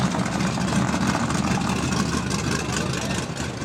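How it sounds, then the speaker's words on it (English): Nitrous-fed Dodge Dart and boosted Camaro drag cars sit idling side by side at the starting line of a heads-up street drag race, a steady loud rumbling engine drone with no break throughout. "So again, nitrous-fed Dart taking on boosted Camaro"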